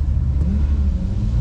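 A Ferrari 812 GTS revs its engine at the Goodwood Festival of Speed on a wet day, giving a loud, close, continuous low rumble that climbs in pitch near the end.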